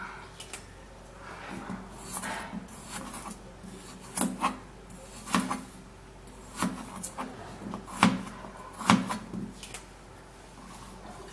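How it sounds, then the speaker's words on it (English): A knife cuts through a washed potato on a board, making a series of close, sharp chops at an uneven rhythm over a faint background. "I'm going to be cutting the potato"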